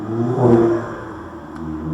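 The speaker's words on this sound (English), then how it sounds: "excuse the cars going past." A passing car with a turbo engine rumbles by on a road with speed humps, a brief low engine swell that peaks and fades within a couple of seconds, fairly close.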